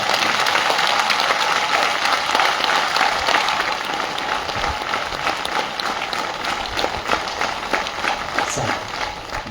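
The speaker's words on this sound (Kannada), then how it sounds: "ಒಂದ್ಸರಿ ಎರಡು ಕೈ ಮೇಲೆತ್ತಿ ಜೋರಾಗಿ ಚಪ್ಪಾಳೆ" An audience at a spiritual gathering honouring a swamiji bursts into loud, dense applause with hands raised, sustained and even for several seconds before easing slightly.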